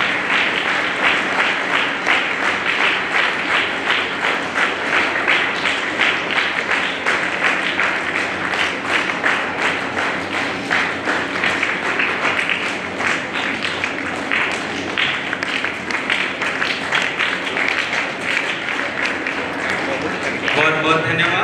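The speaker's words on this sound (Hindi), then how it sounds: "हम लोग ताली बजाते रहेंगे" An audience at a Sunday School Day gathering claps steadily during a lamp lighting, continuous rhythmic applause with voices mixed in beneath it throughout.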